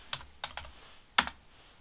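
Keys clack on a computer keyboard while HTML code is typed for a table, coming as a few sharp separate keystrokes with gaps between them, close and fairly quiet, with no voice.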